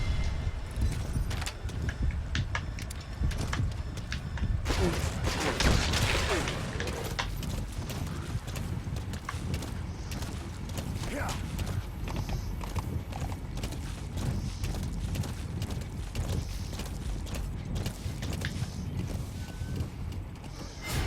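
The horse D-Horse gallops in Metal Gear Solid V with rapid rhythmic hoofbeats under game noise and occasional bursts, while a person talks intermittently over it.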